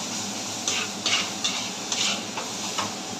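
Mixed vegetables with chili powder are stirred in a hot pan: a series of rhythmic scraping strokes, roughly one every half second, over a low background sizzle.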